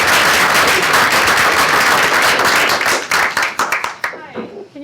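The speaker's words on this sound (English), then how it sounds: "Give her a round of applause, please." A crowd applauds with dense, steady clapping that thins out into a few scattered claps before a voice begins at the end.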